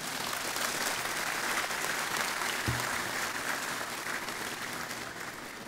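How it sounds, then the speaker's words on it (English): A graduation ceremony crowd applauds the graduating class of 2019, dense, sustained clapping filling the hall at an even level, with one brief low thump partway through. "I think they deserve a round of applause."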